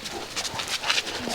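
Dogs yip, whimper and pant in an excited, restless jumble, with short high cries close by over a noisy outdoor background.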